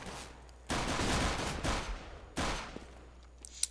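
Five-SeveN pistol shots in CS:GO: two loud, sharp bursts of gunfire, each ringing out for about a second with a short echoing tail, separated by a brief lull over low background hum.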